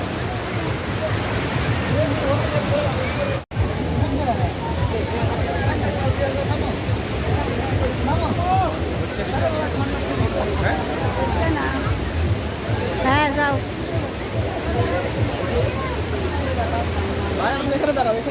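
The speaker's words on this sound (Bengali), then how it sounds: "গ্রিন ভ্যালির প্রধান আকর্ষণ এই ঝর্ণা বিশাল পাহাড়ের ঝর্ণা" Large hillside waterfall at Green Valley Park in Natore, a steady, loud broadband roar of falling water running throughout, with crowd voices and chatter mixed in underneath.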